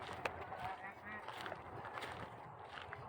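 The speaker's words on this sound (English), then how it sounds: "There's a goose up there, blocking the path." A goose or duck guarding a nest on a nature trail path gives a few short honking calls at moderate distance, with brief faint voices and outdoor background around them.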